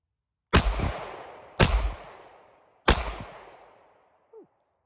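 Three loud, close gunshots from a Bear Creek Arsenal Grizzly rifle fired about a second apart, each with a sharp crack and a decaying echo, followed by a brief faint sound.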